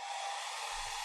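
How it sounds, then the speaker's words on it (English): A hair dryer whirs steadily in the background, a constant airy hum with a faint low rumble joining near the end. "hairdryer sounds in the background"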